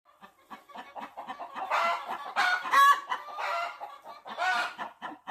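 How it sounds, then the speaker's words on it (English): Several chickens clucking and squawking excitedly at close range, a busy overlapping run of calls rising in the middle. "Crazy chickens."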